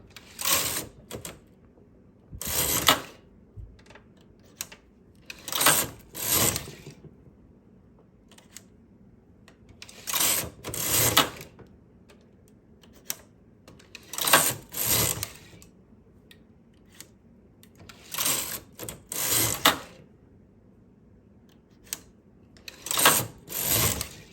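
A knitting machine carriage passes across the needles while knitting the back panel of a summer top, making close, clattering mechanical runs in repeated bursts separated by short quiet pauses.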